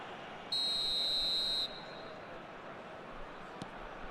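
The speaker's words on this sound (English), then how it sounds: "Whistle's gone, that's a foul." A referee's whistle in the eFootball video game sounds one steady, loud tone lasting about a second over a continuous backdrop of crowd and stadium noise.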